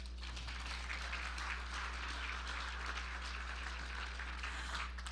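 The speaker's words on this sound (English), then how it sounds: "Let's give these officers a round of applause." Applause for retiring Women's Council officers at an inaugural night, a faint, steady wash of clapping from a seated crowd that runs the whole time over a low constant hum.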